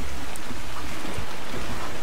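Rain pours on a beach in the video game Ark, a loud, dense, continuous hiss with low rumbling underneath and no voices.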